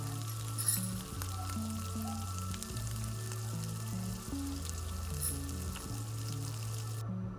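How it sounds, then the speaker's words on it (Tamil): Onions sauté in a pan for an okra fry with a quiet, steady sizzle, while a low humming tone runs under the frying throughout. "வெங்காயமும் சேர்த்துருக்கேன் நல்லா வதக்கிக்கலாம் ஃப்ரெண்ட்ஸ் வெங்காயம் வந்து பொன்னிறமாக வதக்கிக்கலாம்"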